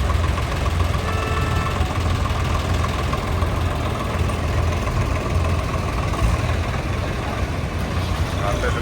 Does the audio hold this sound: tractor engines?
yes